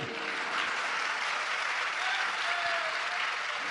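Steady applause from an audience fills the whole stretch, dense and even without a break, with no talking over it.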